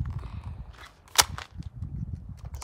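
An airsoft gun being cocked indoors, giving one sharp, loud mechanical snap that stands out against a low background rumble and faint room noise.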